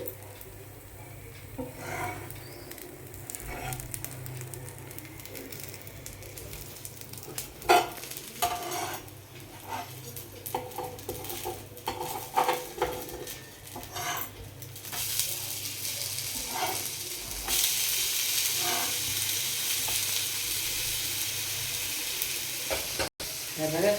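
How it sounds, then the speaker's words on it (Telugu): A moong dal pesarattu frying in oil on a pan, with onions underneath, and then flipped: a continuous sizzle with spatula scrapes and taps, swelling into a louder, brighter hiss toward the end. "సో ఇప్పుడైతే మనకి పెసరట్టు ఒకసారి తిప్పుకుందామండి"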